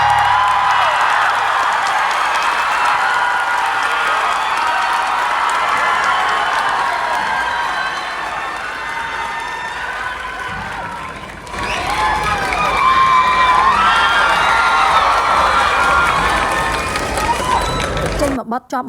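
Applause and cheering fill a hall, a broad crowd roar with whoops and shouts that dips briefly midway, then swells back loud and sustained.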